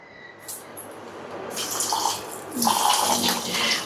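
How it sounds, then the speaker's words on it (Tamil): Water splashes and swishes steadily close by, growing louder toward the end, as rice is rinsed by hand in a bowl. "நல்ல தண்ணியில் அதே மாதிரி ஒரு தடவை கழுவிட்டு,"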